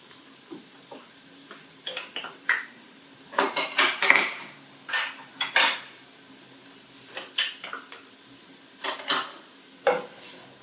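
Ginger and garlic stirred into softened onions in a pot for an oil-free lentil soup: repeated clanking spoon strikes against the pot in irregular bursts, close and clear, with quiet gaps between.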